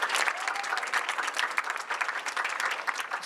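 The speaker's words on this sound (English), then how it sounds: "let's give her a round of applause" Audience at a women's entrepreneurship awards event applauding steadily, dense sustained clapping from a crowd with no pauses.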